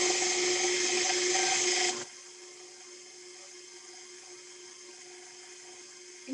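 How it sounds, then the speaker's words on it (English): An electric mixer on a slow whisk setting churns butter and powdered sugar, a steady motor whir running for about two seconds and then cutting out, leaving near silence. "I'm gonna start on a slow whisk setting as to not get the powdered sugar everywhere"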